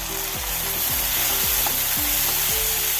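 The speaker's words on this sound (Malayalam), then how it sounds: "ഉള്ളിയിലൊന്ന് വാടി വന്ന് ഇനി ഒരു തക്കാളി ചെറുതായി അരിഞ്ഞത് ചേർത്ത് കൊടുക്കാം" Chopped tomato sizzles loudly among softened frying onions for a dal palak curry, a dense steady crackle close by, marked by regular stirring scrapes roughly every half second, with no speech.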